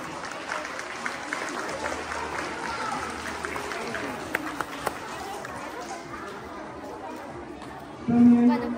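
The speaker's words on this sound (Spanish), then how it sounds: "Brindémosle un fuerte aplauso," Audience applause at a school Day of the Dead festival, sustained clapping from a crowd with scattered chatter, ending as a voice cuts in at the close.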